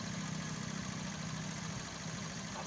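A motorcycle engine idles at a cricket match, a steady low rumble with constant vibration that holds at moderate level through the whole moment, with no talk over it.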